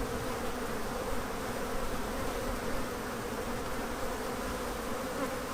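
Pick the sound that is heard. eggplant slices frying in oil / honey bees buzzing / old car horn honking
honey bees buzzing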